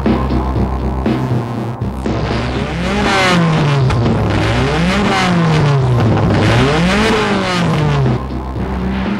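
A modified, lightened Subaru Impreza gymkhana car with a 100 mm widened body, driven on a mountain touge road, its engine revving up and down through gear changes, loud and close with a throbbing exhaust note.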